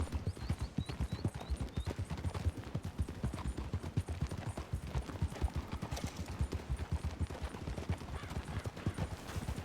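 Rapid hoofbeats clatter steadily throughout, a video game horse trotting at a brisk, even rhythm, with a few faint high chirps early on.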